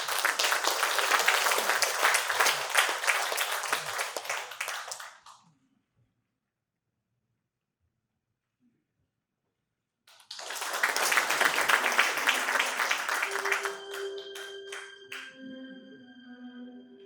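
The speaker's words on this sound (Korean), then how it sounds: "큰 박수로 환영해 주시기 바랍니다." An audience at a memorial ceremony for President Kim Dae-jung in Incheon applauds warmly in two dense bursts separated by several seconds of silence, and the second burst fades under soft, sustained musical tones.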